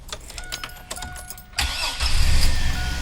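A car's starter clicks and whirs briefly, then the engine catches and settles into a rough, steady idle close by in a workshop.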